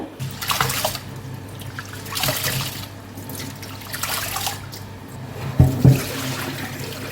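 Dishwashing water draining out of a home kitchen toward garden plants outside, heard as close, intermittent gushing and splashing in repeated surges, with two sharp knocks near the end.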